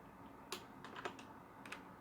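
Keys clack softly on a computer keyboard in a handful of scattered, faint taps against a quiet room hum.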